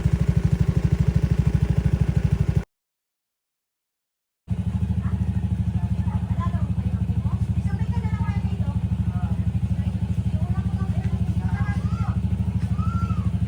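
A motorcycle engine warming up close by, idling with a steady low throbbing pulse that cuts out briefly then resumes, while people chat faintly in the background.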